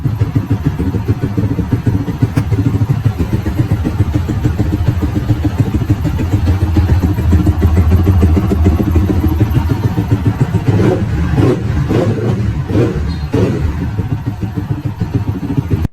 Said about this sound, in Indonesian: ini contohnya waktu gue pasang ECU Juken 5 Plus, terus gue starter